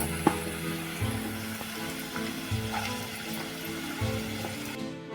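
Onion frying in a pan for an okra and prawn curry sizzles steadily at close range, with a low humming drone and soft clatter underneath and no talking.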